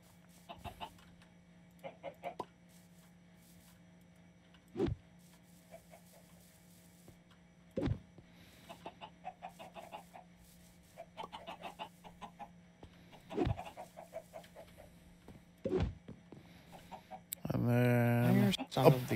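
Chickens cluck softly and intermittently in a Minecraft modpack game, short scattered bursts over a steady low hum, with a few sharp clicks and a louder noisy stretch at the end.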